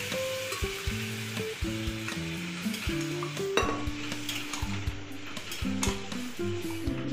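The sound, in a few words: boiled chickpeas added to hot pan, sizzling and stirring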